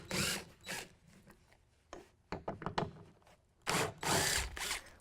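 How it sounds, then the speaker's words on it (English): Power driver with a T40 Torx bit backing out the front truck-bed tie-downs near the bulkhead of a 2016 Toyota Tacoma: short bursts of whirring, with brief ratcheting clicks between them, close and unaccompanied by talk. "We're going to use a T40 Torx bit to pull those out."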